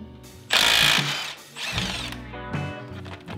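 Power tool or ratchet working on differential bolts on a Lexus IS300 rear subframe, a loud whirring burst followed by shorter mechanical runs and clicks, close and without speech.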